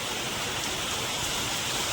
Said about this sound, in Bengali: ঝাঁপিয়ে বৃষ্টি পড়ছে